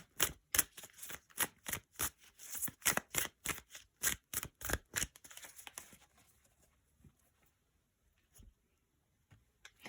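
Tarot card decks being shuffled by hand: quick, crisp rhythmic bursts of riffling card stock for about five seconds, then near silence with a few faint taps.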